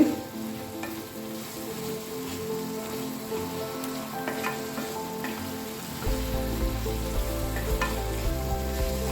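Chettinad chicken frying with onions in a pan gives a loud, continuous close-up sizzle and crackle, growing heavier with a low rumble in the last few seconds.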